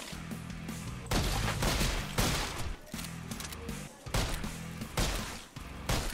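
Rapid, loud gunfire from the shooting video game Lighthouse of the Dead, with repeated bursts of shots and heavy impacts filling the whole stretch without a break.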